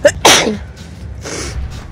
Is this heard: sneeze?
yes